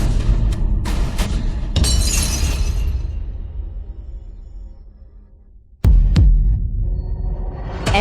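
A sacred temple relic from Japan breaking: dense crashing and splintering early on that fades out, then a second sudden sharp crash near the end with a lingering rattle.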